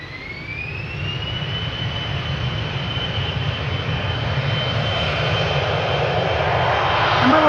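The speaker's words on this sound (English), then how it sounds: "Embraer 175 to leads." An Embraer 175 jet bound for Leeds takes off from Schiphol's Polderbaan, a loud engine roar with a rising whine that swells steadily as it nears, heard alone without voices.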